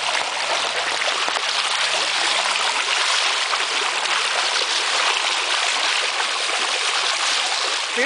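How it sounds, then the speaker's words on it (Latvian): Strong, steady rush of floodwater after heavy rain in Brisbane, loud and close, a broad continuous roar with splashing throughout and no voices. "Pilnīgi tāda stipra strauma."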